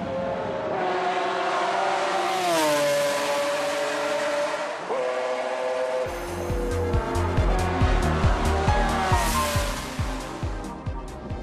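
A McLaren F1 supercar engine revs hard and close, its pitch climbing and dropping through several gear changes before settling into a loud, pulsing drone with rapid rhythmic throbs.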